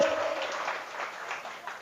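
Audience applause at an Indonesian religious lecture: a soft, steady wash of many hands clapping, fairly distant and even throughout the short stretch.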